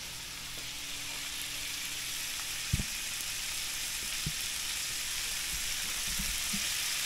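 Potatoes fry in a pan for a New Year's Day breakfast, giving a steady, even sizzle throughout with a few soft clicks and taps of cooking utensils near the middle and end.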